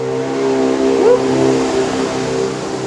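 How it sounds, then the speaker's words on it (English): Truck engine passing on a street near San Juan Beach, a loud, steady droning rumble that rises slightly as the vehicle goes by close to the listener, with no one talking. "I'm gonna wait till that truck passes again."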